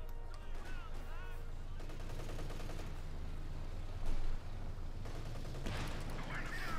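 Vickers machine gun fire crackles in the strategy game Company of Heroes 2, quick bursts layered with distant battle noise under a continuous stretch of commentary.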